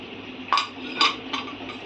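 Three sharp metallic clanks about half a second apart as a lid is set onto a pot of simmering okra and egg curry, close by with a low kitchen hum beneath.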